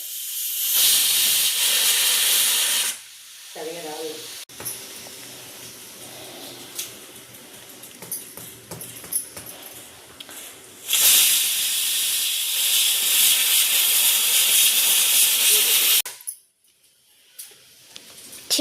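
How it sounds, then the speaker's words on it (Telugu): A pressure cooker cooking dal on a home stove lets off its steam whistle in long, loud hissing bursts, separated by quieter stretches of rattling and kitchen noise. "అమ్మ అయితే కుక్కర్కి విజిల్ పెట్టేసింది అనమాట"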